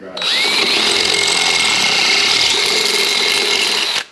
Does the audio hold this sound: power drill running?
yes